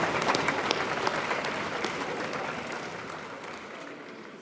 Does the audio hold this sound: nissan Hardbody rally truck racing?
no